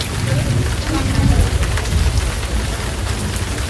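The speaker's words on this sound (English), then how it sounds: "And it's still raining." Heavy rain pouring steadily, a dense hiss with low rumbling underneath, continuous and close throughout.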